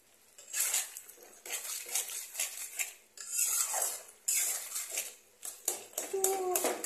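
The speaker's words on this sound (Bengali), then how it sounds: "খুন্তি দিয়ে আলুগুলোকে একটু এরকমভাবে গলিয়ে দেবেন" Metal spatula scraping, stirring and mashing potatoes in a cooking pan as the water dries off, a run of close, uneven clinks and scrapes in bursts with brief pauses, no talk.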